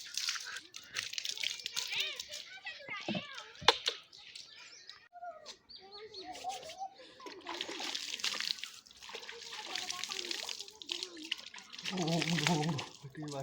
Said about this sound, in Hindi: नहाने के लिए भरते हुए पानी